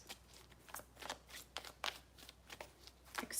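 Quiet, papery riffling of tarot cards being shuffled in several short bursts, close and soft, with no talking.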